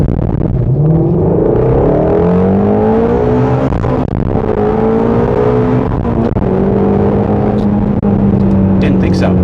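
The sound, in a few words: car engine revving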